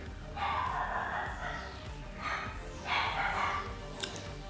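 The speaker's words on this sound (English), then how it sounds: "If you can hear my dog barking" A dog barks indoors several times, with short, separate yaps and woofs at a moderate distance, spaced out with pauses between them and no voices over them.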